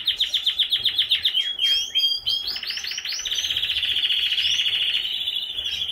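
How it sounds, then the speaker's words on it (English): A red brown mosaic canary, a single factor cock kept in a breeding cage, sings alone in bright rapid trills and repeated chirping phrases, close and loud throughout. "Bird that is singing is the red brown mosaic."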